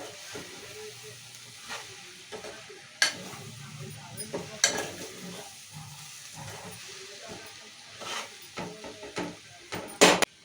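Scraping stirs of a spoon through moong dal and onions sizzling in oil in a pan, with irregular clatters and a steady frying hiss underneath.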